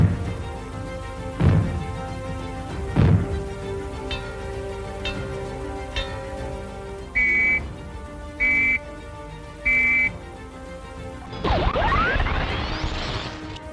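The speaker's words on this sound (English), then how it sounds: "If the fallout warning sounds are heard, they will be like these." Civil defence fallout warning signals: a few heavy bangs followed by three short, evenly spaced high whistle blasts, then a fading rushing sweep.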